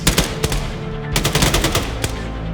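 Automatic machine gun fire in the military video game Arma 3, loud close bursts with sharp repeated shots and a few heavier cracks over about two and a half seconds of continuous battle noise.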